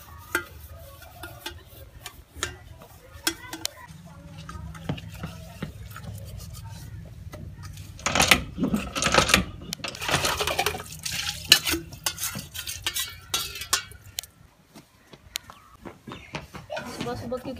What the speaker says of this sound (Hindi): तो ये मैं बर्तन धो रही हूँ दूध वाला